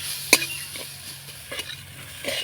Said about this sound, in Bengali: এবার নাড়াচাড়া করে আমি ভালো করে কষিয়ে নেব আর ভাজা ভাজা করে নেব।